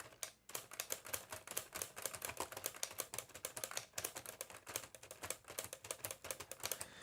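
Keys on a LEGO Ideas typewriter model are pressed and the plastic hammer strikes, making a rapid, steady run of light, close clacks that continues for several seconds with no talking.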